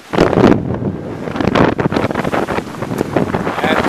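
Strong wind buffeting a sailboat at sea on a solo transatlantic crossing, a loud continuous roar with gusty surges and rushing noise close to the microphone.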